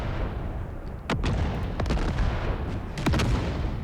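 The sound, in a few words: artillery firing in Empire: Total War video game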